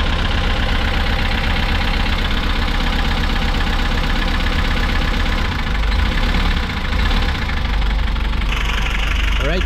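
A flood-stalled Hyundai H100 van engine runs loud and steady, its low rumble and rough knocking beat filling the clip close up, revved briefly without much rise in pitch.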